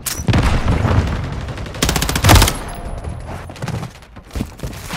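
Gunfire and a grenade blast in Modern Warfare 3 on PS5, on the Terminal map: dense bursts of automatic fire crackle close and loud, with a heavier booming burst in the middle and scattered shots trailing off.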